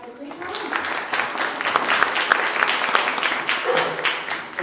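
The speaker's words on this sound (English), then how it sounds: "So everyone give him a round of applause and have a great time." A seated audience at a talk on Detroit branding gives a sustained round of applause, dense many-handed clapping filling the room at steady loudness for several seconds.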